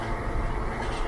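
A second class train in India rumbles along with a steady, broad rushing and rattling noise, heard from inside the carriage at a low, continuous level without talk.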